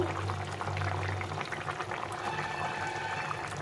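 Tangra fish curry bubbles steadily in the pot after fried fish goes in, a continuous close boiling simmer with soft liquid gurgles, alone without voices.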